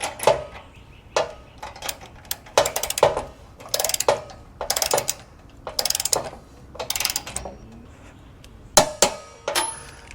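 A Tekton torque wrench clicks and ratchets in short, sharp bursts while tightening weight distribution hitch bolts toward 90 foot-pounds, a series of close metallic ratcheting strokes with brief pauses between them.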